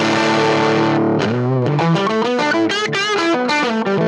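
Heavily distorted, overdriven guitar tones from an Axe-Fx III Fender Tweed amp model with speaker drive turned up, loud and saturated, with a run of shifting, squealing notes after a sustained chord.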